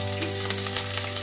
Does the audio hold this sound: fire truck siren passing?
no